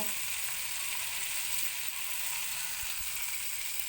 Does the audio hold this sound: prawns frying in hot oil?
yes